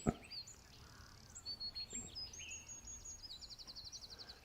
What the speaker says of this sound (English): Some birds up here.